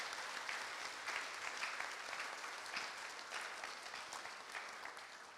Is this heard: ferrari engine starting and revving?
no